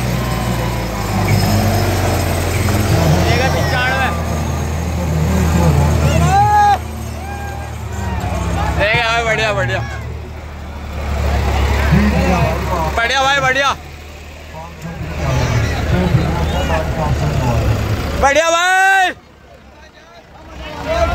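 A Turbo 595 tractor engine runs steadily at a tug-of-war match, a low continuous drone under a noisy crowd with shouting and excited voices throughout.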